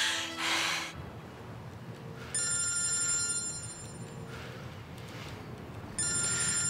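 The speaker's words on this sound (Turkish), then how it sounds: "Şimdi Ahu arıyor" Telephone ringing indoors in a Turkish drama scene: electronic ring bursts with bright steady tones, one starting at about two seconds and another near six seconds, fairly faint, over quiet room noise and a few breathy sounds, no speech.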